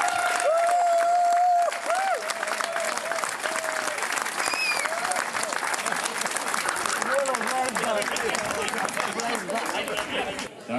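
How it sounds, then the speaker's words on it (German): A big crowd at a village fair (Kerwe) in Essingen applauds loudly and steadily for about eleven seconds, with cheering, chatter and a few whistles mixed into the dense clapping. "unserem noch Gott sei Dank wieder auferstandenen Wolfgang Volz mal einen riesen Applaus für"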